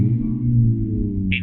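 A low, steady synthetic engine drone from a 2017 Renault Clio RenaultSport's simulated sound system hums at constant pitch, with a short bright tone chirping near the end.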